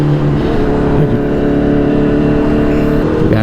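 A Kawasaki ZX10R sport motorcycle runs at steady high revs while ridden, a loud continuous engine drone with wind noise close to the rider, pitch shifting slightly near the end.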